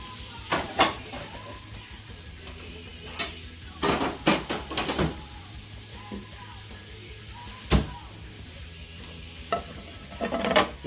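Chicken cooking in a pan on the stove for quesadillas, a soft low sizzle running underneath sharp clinks and scrapes of utensils against the pan and dishes, irregular and close.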